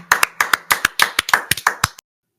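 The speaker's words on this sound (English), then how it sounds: "Let's clap it up." Claps from a small group of people at a sports preview show, in about a dozen distinct sharp bursts spread over two seconds, fairly close and uneven in rhythm, then abrupt silence.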